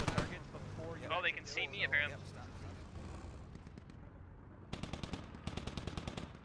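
Gunfire in the Squad Ops military shooter, a steady rattle of distant shots at first, then sharp bursts of rapid machine-gun fire nearer the end, with someone talking briefly early on.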